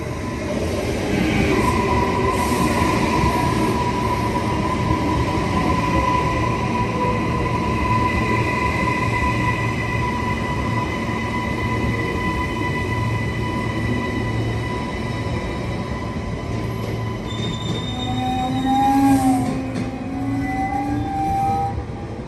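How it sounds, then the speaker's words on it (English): A Brisbane City and Manly express train arrives at Platform 1 on Queensland Rail, a steady close rumble of rolling cars with faint wheel squeals and tonal whines near the end. "The train arriving on Platform 1 is the Brisbane City and Manly train running express from South Brisbane"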